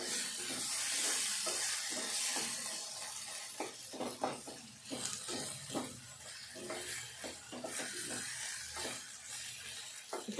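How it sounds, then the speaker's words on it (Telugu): Dal with softened tomatoes is stirred in a pot to keep it from sticking, giving steady scraping strokes over a continuous sizzle and hiss of cooking, close and moderately loud, with no voices. "ఒకసారి అంతా కలుపుకోవాలి అడగంటుకోకుండా పప్పు."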